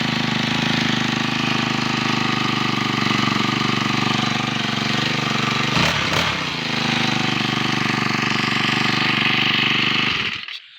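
An eight-year-old four-stroke brush cutter with a newly replaced carburetor and cleaned ignition coil runs at a loud, steady, buzzing drone close up, briefly wavers midway, then cuts off abruptly at the end.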